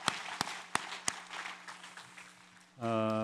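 A church congregation gives a short round of applause for a couple about to marry: a few distinct loud claps followed by a fading patter of softer clapping, then a sustained musical tone enters at the end.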